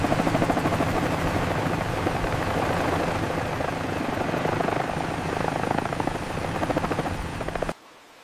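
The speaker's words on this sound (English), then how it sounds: "people have switched to using an agricultural drone to spray" An agricultural spraying drone, multirotor, drones loudly and steadily overhead with a dense buzzing hum for several seconds, then cuts off abruptly near the end.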